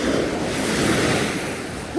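Waves break and wash on the shingle of Chesil Beach, a dense, continuous surf roar close by with wind buffeting the microphone, and no voices.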